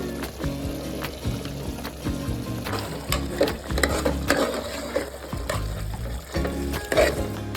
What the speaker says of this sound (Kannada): ಅದನ್ನು ಹಾಕಿ ಅದನ್ನೆಲ್ಲ ಚಿಕನ್ ಜೊತೆ ಕರೆಕ್ಟಾಗಿ ಮಿಕ್ಸ್ ಮಾಡಬೇಕು